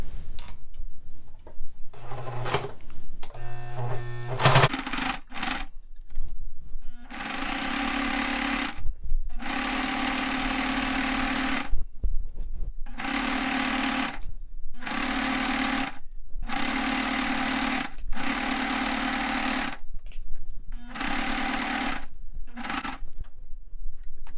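A sewing machine stitches a seam on sweatpants in repeated bursts of steady, rapid, close mechanical whirring, broken by short pauses and a few fabric-handling clicks, with no talk.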